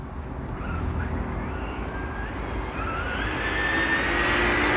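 A Redcat Rampage XBE 8s fifth-scale RC buggy on a speed run makes a loud, continuous roar, with a high motor whine that climbs in pitch as it speeds up.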